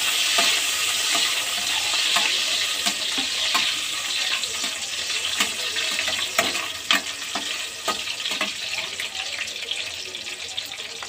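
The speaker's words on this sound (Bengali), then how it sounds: "কাজু কিশমিশ একটু নেড়ে নিতে হবে হালকা করে।" Cashews and raisins are stirred lightly in a frying pan while cooking payesh, a soft sizzle running throughout with regular scraping and clinking strokes of the spoon against the pan.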